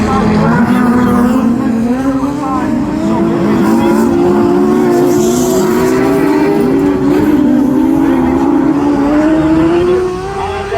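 Class 10 autograss race cars battle on a dirt track, engines roaring loud and steady with a rising, sustained pitch as they pass close by. Faint commentary sits beneath the noise.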